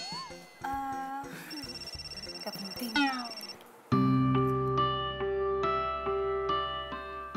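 A mobile phone ringtone plays a repeated melodic tune and goes unanswered, with a person speaking briefly as it rings before it carries on loud and unbroken.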